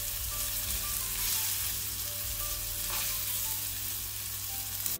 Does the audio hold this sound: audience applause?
no